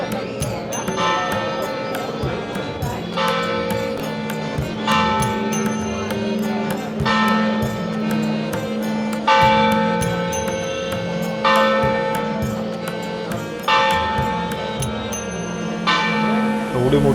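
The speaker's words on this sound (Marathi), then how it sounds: "एवढी मोठी घंटा आहे बघा तिकडे वरती." A large temple bell at the Mahalaxmi temple in Kolhapur rings during aarti. Loud, resonant strikes come roughly every two seconds with a continuous ringing wash between them.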